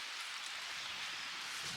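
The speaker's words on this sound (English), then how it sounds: "So we're going on day 2 of rain." Steady rain falls on a straw panel farmhouse build site, a soft, even hiss of drops on a surface with no pauses, fairly quiet and heard alone without voices.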